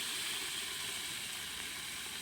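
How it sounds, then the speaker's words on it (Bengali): Cauliflower pieces frying in hot oil, a steady bright sizzle and hiss that holds at an even level throughout, with no voices. "ফুলকপিগুলো এবার আমরা তেলে ছেড়ে দেবো।"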